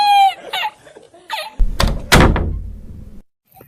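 A door bangs open with a couple of heavy thunks and a rattling knock, close and loud, following a few short vocal sounds in a cartoon comedy scene.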